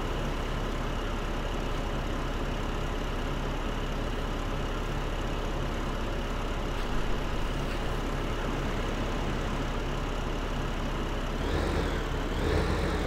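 A tractor engine in Farming Simulator 15 drones steadily at a constant idle-like pitch, low and continuous, before a brief rise and fall in revs near the end; no talking.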